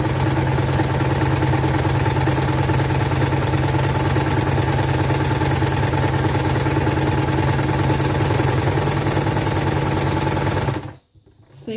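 A sewing machine stitches fabric steadily for about eleven seconds, its loud, fast mechanical whirr running without a break before it stops abruptly into near silence.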